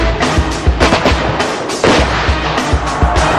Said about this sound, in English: It can drop shells from 25 miles away, and it fires at a rate 4 times faster than any other field cannon.